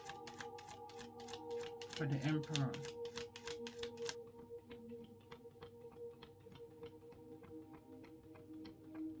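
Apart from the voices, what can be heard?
tarot cards being shuffled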